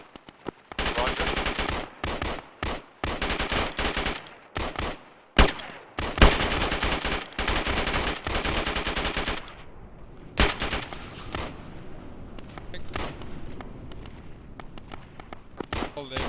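Bursts of machine gun fire as fire support, loud rapid volleys in repeated strings with short gaps, followed by sparser shots and radio-style talk underneath.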